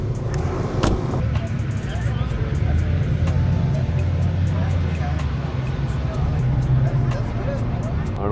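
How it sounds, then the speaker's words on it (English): A car left idling at a car meet gives a steady low engine rumble close by, running throughout under crowd babble and nearby voices. "Yeah, I didn't turn off the car."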